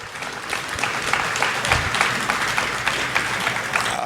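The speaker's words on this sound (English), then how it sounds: "Please give yourself a round of applause." A live crowd at a wrestling podcast show in Cleveland, Ohio, gives sustained applause, a dense, even roar of clapping throughout.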